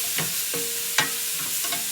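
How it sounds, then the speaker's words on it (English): Rough-chopped ham sizzles and crackles steadily in a hot pan while being stirred, with a few sharp scraping clicks over the continuous frying hiss, close and alone. "The next thing I'm going to do is add in my ham."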